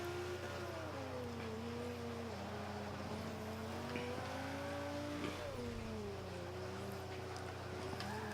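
Racing car in Forza 5 braking hard and locking up through turns, a steady loud engine drone with shifting pitch and faint tire scrub, continuous throughout.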